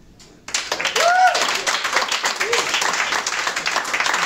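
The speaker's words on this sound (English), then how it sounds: "give me a big round of applause" Audience at a stand-up comedy show in Stockholm bursts into loud, sustained applause and clapping that fills the room after a near-silent moment, with a brief whistle or cheer rising above it.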